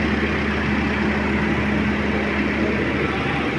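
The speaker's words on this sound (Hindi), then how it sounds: "ये पीछे जनरेटर चल रहा है, उसकी आवाज़ है" A company generator runs steadily in the background at a used car auction, a continuous low engine drone with a faint tonal hum that holds unchanged throughout, with no speech over it.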